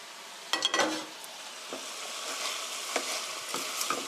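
Chicken sizzles in a pan as sliced onion, carrot and cabbage are stir-fried into it, a steady close frying hiss broken by scattered scraping and tossing clatters of a utensil.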